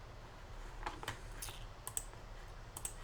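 Sharp, quiet clicks from a computer mouse being clicked, several isolated taps spaced irregularly across a few seconds against a faint background hiss.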